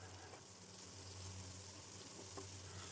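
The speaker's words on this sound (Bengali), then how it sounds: "রসুনটা মাছের সাথে একটু ভেজে নিচ্ছি।" Chopped garlic frying with prawns in oil in a pan for a tawa masala fry: a soft, steady sizzle running throughout at close range, with faint stirring.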